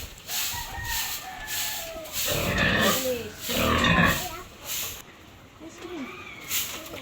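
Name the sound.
pigs oinking in a piggery being swept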